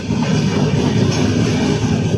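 An Uday double-decker express train rolls past at close range, a steady loud rumble and rush of wagons with a faint rhythmic clatter, no voices.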